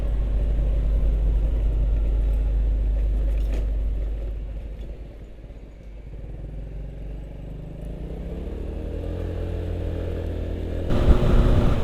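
Road traffic, including a bus, passes a motorcycle rider on a Javanese road. A steady low engine and tyre rumble dips briefly in the middle and then builds again, with a louder burst at the end.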